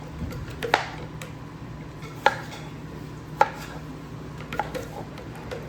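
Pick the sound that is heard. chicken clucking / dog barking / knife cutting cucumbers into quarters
knife cutting cucumbers into quarters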